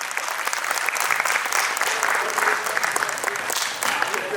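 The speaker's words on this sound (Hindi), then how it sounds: "एक बार तालियां हो जाए वंस अगेन।" Loud, close applause from the audience at a third annual award ceremony, many hands clapping in a thick continuous patter with slight swells and dips throughout.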